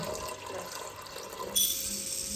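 Water pours into a pressure cooker, to be heated for cooking varan from toor dal: a quiet trickling wash that suddenly swells into a louder, steady rushing stream partway through.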